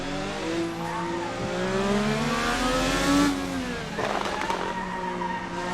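Open-wheel IndyCar engines in the Assetto Corsa racing game, on the Mexico City circuit, whine and rise in pitch under acceleration while tires squeal and skid, loud and steady throughout.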